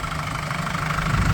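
A VW LT35 van's 2.8 turbodiesel engine (116 kW, manual gearbox, about 260,000 km) idles with a steady, low, continuous rumble, heard alone.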